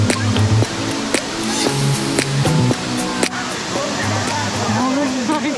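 A steady broadband rush of falling water from a waterfall on Oahu's North Shore fills the clip, with voices talking over the roar.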